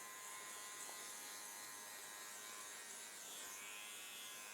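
An electric hair clipper running at full speed during a buzz cut skin fade, giving a faint, steady high-pitched buzz that holds constant, with no talking.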